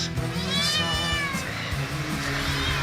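A cat meows several times close by, drawn-out wavering cries that carry over a steady low background hum.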